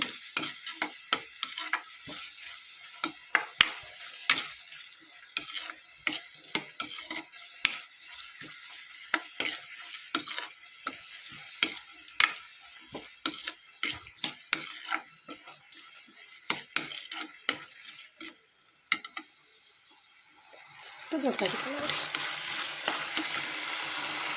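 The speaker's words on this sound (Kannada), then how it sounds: "ಟೊಮೆಟೊ ಹಾಕಿ ಒಂದು ಸ್ವಲ್ಪ ಹೊತ್ತು ಫ್ರೈ ಮಾಡ್ತೀನಿ ನಾನು ನೀರೇನೋ ಹಾಕ್ತಾ ಇಲ್ಲ ಬರೀ ಎಣ್ಣೆಯಲ್ಲಿ ಫ್ರೈ ಮಾಡ್ತಾ ಇರೋದು" Tomato frying in plain oil with no water in a pan, crackling sizzle punctuated by frequent scraping stirs and clacks, fairly close and steady, with no talk.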